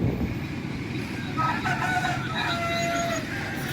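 Young cockerels, five to eight months old, crow in a yard, a couple of strained, drawn-out calls over steady background noise.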